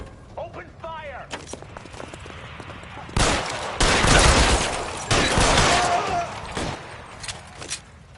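A chaotic shootout in the L.A. Noire video game: loud bursts of rapid gunfire in clusters, with a voice and a horse-like whinny earlier and gameplay noise between volleys.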